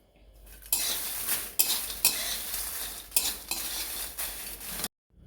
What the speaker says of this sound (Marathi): मिरच्या भाजताना आपण थोडंसं तेल टाकणार आहोत